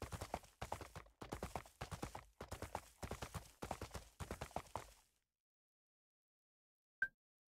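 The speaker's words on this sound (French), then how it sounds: "j'ai presque réussi à traverser avec le cheval." Horse hooves clip-clop at a steady trot in the fantasy MMO Tarisland, close and clear in a run of quick rhythmic bursts lasting about five seconds, followed by silence and one short click.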